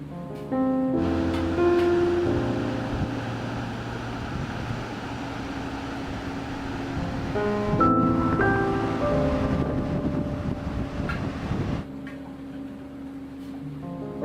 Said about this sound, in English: I just love being near the ocean